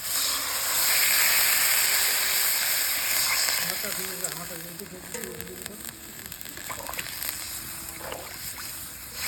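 Water poured into hot fried spice paste for a Bengali bata fish curry sets off a loud, steady hiss and sizzle that gradually settles into a softer, crackling simmer.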